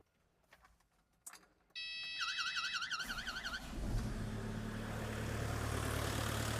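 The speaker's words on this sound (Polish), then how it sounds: "możemy uruchomić silnik" Off-highway machine diesel engine being started, with a brief wavering tone as it cranks, then a low, steady running hum that continues faintly to the end, with no talking.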